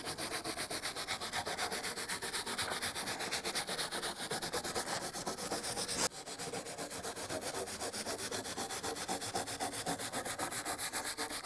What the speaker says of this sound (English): I'm going to scrub all the blade tips.